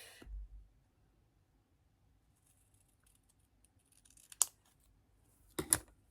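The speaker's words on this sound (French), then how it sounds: "au niveau de ce pli, je vais venir le découper en deux." Scissors snip through a folded sheet of card being cut in two along its crease for a scrapbooking card, two short crisp cuts close by in a quiet room, the second a little longer.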